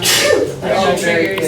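A single sharp sneeze, loud and close, bursts out in a room during a Q&A with a band after a show in a yurt, with people talking over and around it.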